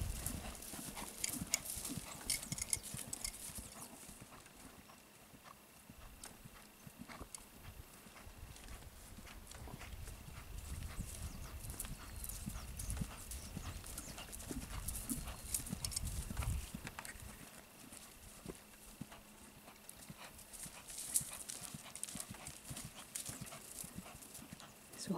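Hooves of a piebald work horse clip-clop steadily on hard ground as it moves along, rhythmic and fairly close, with faint background noise and no speech.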